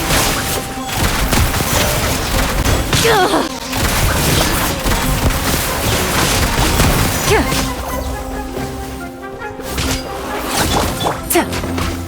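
Rapid bursts of gunfire-like volleys, crashes and impacts from the video game Genshin Impact fill the scene densely, with whooshes between the hits and faint voices underneath.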